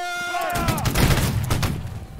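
A loud, close musket volley in Holdfast: Nations at War, a heavy rolling crack of many shots blending into one boom that decays over a couple of seconds, with shouting layered over it.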